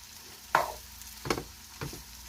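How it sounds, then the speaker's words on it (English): Saltfish is stirred in a pot with peppers, pimento and garlic, producing three separate scraping strokes over a quiet sizzle, close but soft, with no speech. "And I'm just going to mix it all up."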